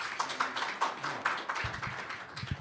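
A breakfast forum audience claps to welcome a lecturer: steady, fairly dense applause at moderate distance, lasting a couple of seconds and starting to thin near the end.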